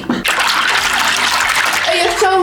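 Shower water running hard and close, a loud, steady broadband hiss with a brief voice at the start and speech-like tones near the end.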